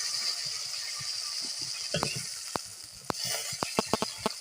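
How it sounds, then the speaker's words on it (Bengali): Onion, garlic and cumin fry in the hot oil left after frying fish. The sizzle is steady, with a few sharp utensil scrapes and taps toward the end. "এই তেলের ভিতরেই পেঁয়াজ, রসুন, একটু জিরা ব্রাউন কালার করে ভেজে নেওয়া হবে"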